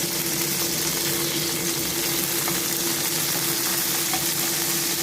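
Chicken pieces for orange chicken frying in a pan over medium heat, a loud, constant hiss and crackle of hot oil with a faint steady hum underneath, no one talking.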